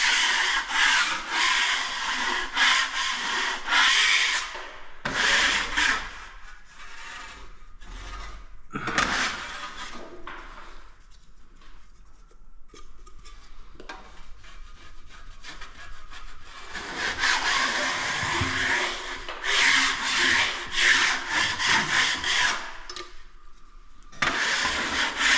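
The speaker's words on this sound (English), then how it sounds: "Give it a good scrape" A broad rasping scrape of a tool over drywall plaster while square-setting a doorway opening, coming in loud repeated strokes with pauses between bursts, close and alone.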